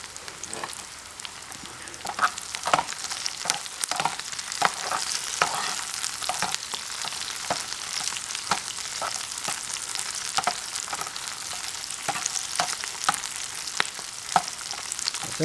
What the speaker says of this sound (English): cooking just a little bit longer for the onions